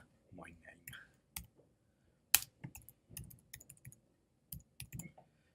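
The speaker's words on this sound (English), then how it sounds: "So I'm just going to type my name." A name is typed on a computer keyboard in sparse, irregular clicks and keystroke taps, close and quiet, with short pauses between bursts.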